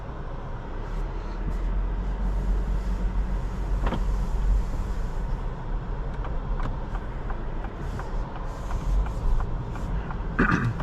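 A 2026 Acura Integra A-Spec sedan cruises on the road, with a steady interior drone of engine and road noise, a low rumble throughout and a few faint clicks.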